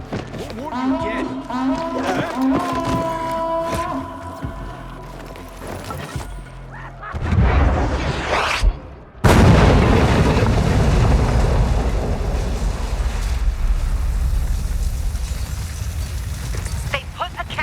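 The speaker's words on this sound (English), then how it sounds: "They put a cannon on a nearby building." In Dying Light 2 co-op play, a game scene with music and voices gives way to heavy cannon fire, a sudden loud blast followed by a sustained roaring, crackling explosion wash that fills the rest.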